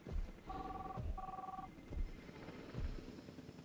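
Telephone ringing inside the game Jurassic World Evolution 2, two short electronic ring bursts in quick succession over muffled low background rumble.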